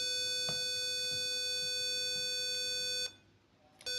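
Continuous high-pitched electronic buzzer tone from a password-based access prototype, sounding loud and steady for about three seconds before cutting off, then briefly restarting at the very end; no talking over it.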